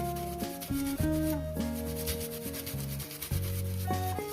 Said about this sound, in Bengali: আদাটা ঘষে দিলাম